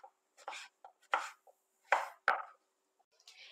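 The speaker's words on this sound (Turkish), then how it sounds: "3 adet kabağımı şimdi bu şekilde ben doğruyorum" Three zucchini being chopped with a knife, a handful of sharp separate cuts in an uneven rhythm, close and clear with no talking.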